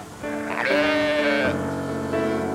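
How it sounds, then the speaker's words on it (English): Sheep bleat in a close, wavering cry that swells and then trails into a second bleat, heard clearly on its own with no talking over it. "a new sound was heard. Sheep were profitable."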